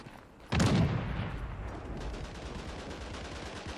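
A sudden, loud blast of gunfire from the World War II shooter Days of War erupts after a half-second lull and continues as sustained, dense firing without letup.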